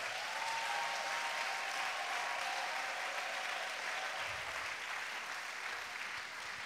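A church congregation applauds steadily during a French-language sermon, a dense, sustained wash of clapping from many hands at moderate distance, holding an even level throughout.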